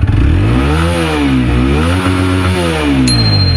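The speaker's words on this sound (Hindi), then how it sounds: "अब गाइस बाइक लग चुकी है स्पोर्ट्स मोड में" TVS Apache 160 4V motorcycle engine in sports mode revving close up, its pitch swelling and dipping in repeated waves over a steady idle, with no talking.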